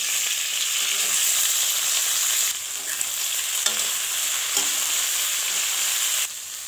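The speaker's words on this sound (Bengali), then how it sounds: "কড়াইতে তেল দিয়ে দেবো আর 5 ফোড়ন দিয়ে দেবো, পেঁয়াজ কাঁচা লঙ্কা কুচি দিয়ে দেবো, নাড়াচাড়া করবো, শিমগুলোকে দিয়ে দেবো" Green beans frying in oil in a wok and being stirred, a steady loud sizzle with intermittent scraping stirs and no talk.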